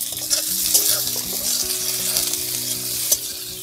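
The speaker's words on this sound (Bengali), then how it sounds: "হালকা একটু ভেজে নেব।" Large-cut capsicum pieces and a seeded tomato sizzle and crackle in a hot pan as they are stirred, a close, steady frying hiss with soft scraping, no voices over it.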